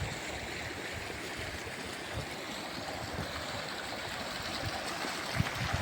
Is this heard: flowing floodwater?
yes